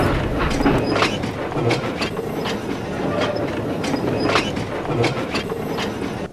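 Toy engine Yong Bao pulling away along model rails, a steady rolling clatter of wheels over track joints with rhythmic clicks, close and continuous throughout.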